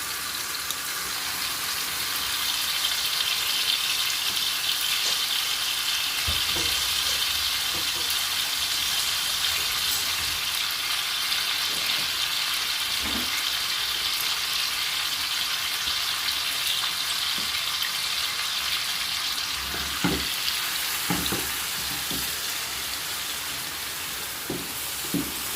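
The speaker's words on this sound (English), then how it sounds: "So what I'm doing, I'm cooking the vegetable out." Vegetables sizzle and fry steadily in a pot for homemade vegetable stock, a constant hiss with occasional scraping stirs and clinks, loud and close, with little talk.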